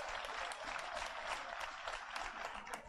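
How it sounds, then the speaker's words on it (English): A room full of people gives a round of applause, a continuous wash of clapping at an even level throughout, heard from some distance and fairly quiet, without talking over it. "So let's give them a round of applause."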